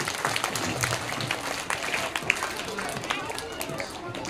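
A school quiz audience of 3rd to 5th class pupils claps together, a dense, steady patter of many hands at moderate distance with crowd chatter and a voice mixed in.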